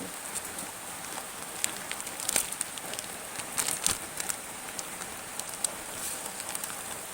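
Rain falls steadily outdoors as a dense, even hiss of drops, with occasional louder splashes and crackles standing out against the wash.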